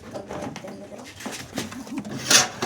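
Pigeons coo softly and repeatedly close by, with rustling and a brief hiss near the end.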